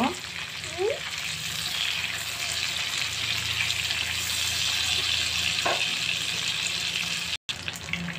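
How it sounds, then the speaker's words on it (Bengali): Eggplant slices fry in a pan over medium-low heat with a steady close sizzle, broken by a few short scrapes and taps as the pieces are turned. "এখন আমি বেগুনটাকে উল্টিয়ে দিব।"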